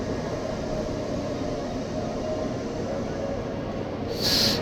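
Steady rumbling noise of a train at Gwangju Station with a constant broadband roar, and a brief high squeal near the end; no speech.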